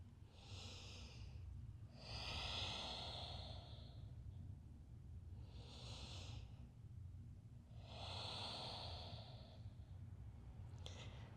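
Slow, deep breathing during a yoga stretch, with four long, soft breaths spaced about two seconds apart over a low, steady background hum. The breaths are quiet and close, with no talking.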